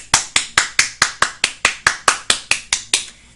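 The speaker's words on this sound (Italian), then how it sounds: "innanzitutto un applauso" Slow, evenly spaced claps ring out in a reverberant room at an Italian language course celebration, about a dozen sharp, separate strikes in a steady rhythm, then they stop.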